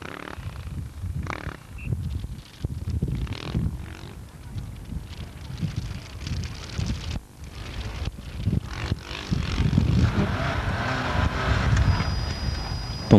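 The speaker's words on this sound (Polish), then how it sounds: "Na trasie motocykliści." Motorcycles run a sandy rally course at the 1994 Jelcz Rally, their engines droning and rising past at middle distance, with rough wind buffeting on the microphone and the noise swelling louder toward the end.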